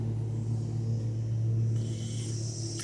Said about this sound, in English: the lawnmower guy is here and I didn't realize he was coming today